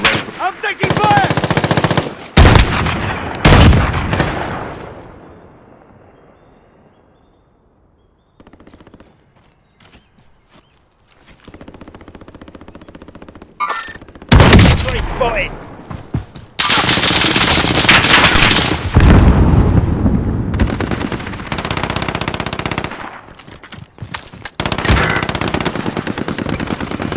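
Automatic gunfire in a Call of Duty Warzone match, loud bursts of rapid machine-gun fire and shots with a quieter lull midway before sustained heavy firing resumes, with no talking.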